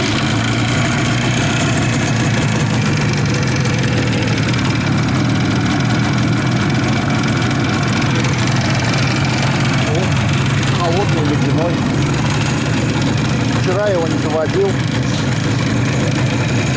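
An Izh motorcycle engine idles steadily with a deep, even rumble close to the microphone, and brief voices are heard over it near the end.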